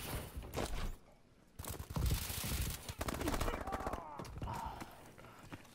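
Rapid automatic gunfire rattles in bursts during a Call of Duty Advanced Warfare match, loud and close with sharp repeated shots and brief pauses, a voice speaking over parts of it.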